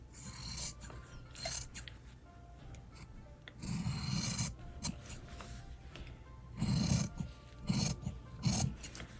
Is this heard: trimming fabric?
yes